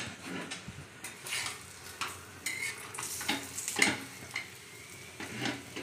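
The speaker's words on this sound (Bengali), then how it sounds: "এটা একটু ভালো করে ভেজে নেব।" Food frying in a pan while being stirred: a quiet, steady sizzle broken by repeated scraping and clinking strokes from the utensil, close by and without talk.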